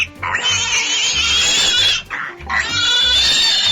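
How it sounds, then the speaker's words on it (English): A pig oinks and grunts in two loud, close bursts with a short pause between them, and no other sounds compete. "It's a pig."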